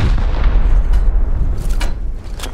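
Rapid gunfire and heavy booms in a Rust battle against a tank at Launch Site, dense, loud and continuous, with sharper bursts standing out near the end.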